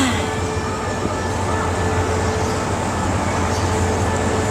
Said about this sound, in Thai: เห็นไหมรถไฟไทย